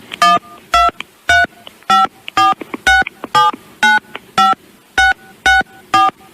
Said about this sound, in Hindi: क्रेडिट कार्ड से अपने 16 अंकों का नंबर डाल दीजिए मोबाइल से।